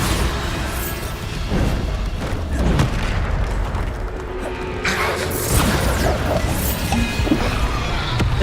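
Bombarda blasting spells exploding in the Hogwarts Legacy video game, loud booming crashes and rumbling impacts rolling one after another over dense battle noise.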